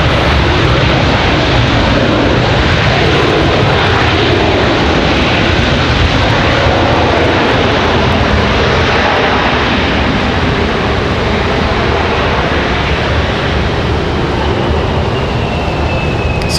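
A jet airliner in old Piedmont livery roars loud and steady at an airport on a breezy afternoon, its broadband engine noise filling the whole stretch without a break.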